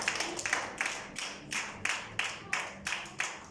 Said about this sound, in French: Acclamons pour la gloire du Seigneur.